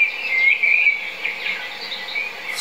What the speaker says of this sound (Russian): крик был слышен какой-то птицы издали.